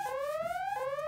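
A steady electronic alarm tone repeats in two rising sweeps, loud and continuous with no pauses, used as a sound effect.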